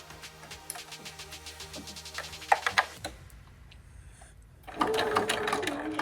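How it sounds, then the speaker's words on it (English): A sewing machine stitches a quarter-inch seam on a fabric face mask in rapid, even bursts of needle ticks. The motor stops, then starts again louder and faster, close up, with no speech. "I'm going to sew over it with a 1/4-inch seam allowance."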